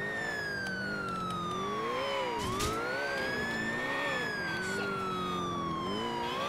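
A police siren in the GTA IV video game wails steadily throughout, its pitch sliding slowly up and down over a constant engine and traffic rumble, loud and close with no talking.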